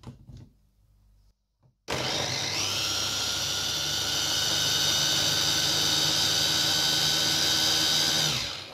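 A kitchen blender whirs loudly and steadily for several seconds, blending tamarind chutney with whole cumin, black salt, sugar and crushed red chillies, starting abruptly after a brief quiet clatter and running at an even high-pitched drone.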